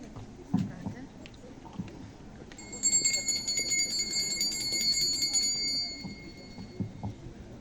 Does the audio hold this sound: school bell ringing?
yes